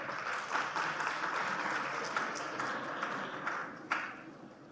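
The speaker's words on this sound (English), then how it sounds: "Give applause for him." Audience applause for a graduate at a university convocation ceremony, a dense, sustained wash of clapping from a large hall crowd, steady and moderately distant, with a few sharper claps standing out near the end.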